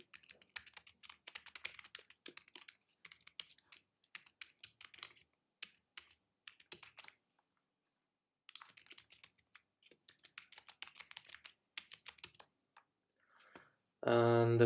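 Typing on a computer keyboard, quick bursts of close, soft key clicks in uneven runs with a pause in the middle, and a brief louder tonal sound at the very end.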